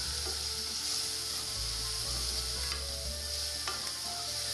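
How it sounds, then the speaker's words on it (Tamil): Steady, loud sizzle of ingredients sautéing in a pan for coconut milk rice, with a few faint scraping stirs over the continuous frying hiss and no speech. "நல்லா கோல்டன் ப்ரௌனாக வர்றக்கும் நல்லா வதக்கிக்கணும்"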